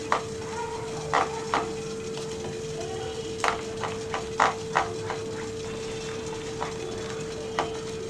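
A homemade aloe vera soap mixture with ground aloe vera added, uncoloured, is stirred in a vessel: soft scrapes and taps come at irregular intervals over a steady low hum, quiet and close.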